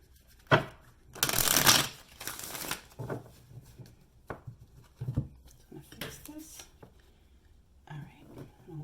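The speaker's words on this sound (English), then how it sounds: "cut the cards" Tarot cards being shuffled close up, with a loud riffling burst early on followed by softer card taps and handling sounds, while a quiet voice speaks.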